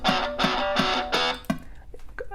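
Distorted electric guitar strikes four chugging chords in a steady rhythm, then shifts into sparser, quieter notes as the section changes.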